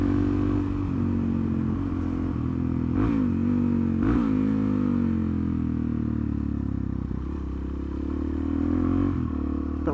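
A Suzuki DRZ motorcycle engine under riding load, droning steadily with rising and falling throttle, a few sharp clattering knocks from the ride breaking through the continuous buzz.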